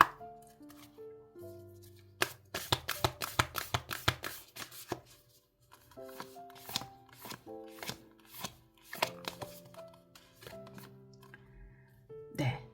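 Oracle cards are shuffled up close for a tarot reading, giving rapid, crisp riffling bursts in several runs over soft background music.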